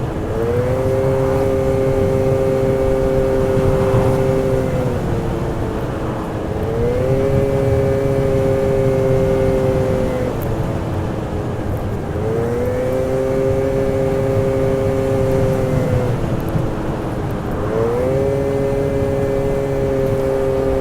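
A scooter engine running rough and loud up close, its tone rising and falling in repeated uneven revs over a steady droning idle, with no other sounds.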